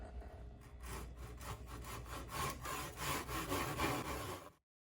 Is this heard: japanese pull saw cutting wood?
yes